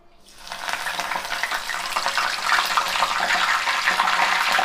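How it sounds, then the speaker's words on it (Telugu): Curry leaves hit hot oil with a sudden burst of crackling sizzle that quickly swells and keeps spitting loudly and continuously, close by. "కరివేపాకు వేయించుకుందాం"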